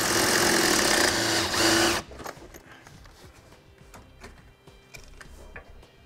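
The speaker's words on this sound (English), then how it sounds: "We're going to remove that with a 15 millimeter socket." A socket wrench on a 15 mm frame bolt of a 2016 Ford E-Series van, heard as a loud dense buzzing run lasting about two seconds, then quieter scattered clicks and ratcheting taps.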